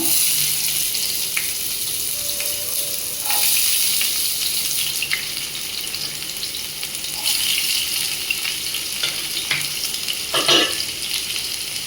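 Onions and green chillies fry in a pan with a bay leaf, a loud, steady hiss of hot oil up close, broken by a few scrapes and knocks of a spatula.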